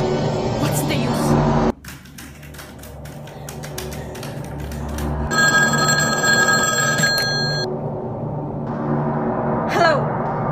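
Old telephone bell in a radio drama, ringing in a bright, rapid metallic trill for a couple of seconds mid-scene, following clattering typewriter-like noise and a voice, with a brief shout afterward.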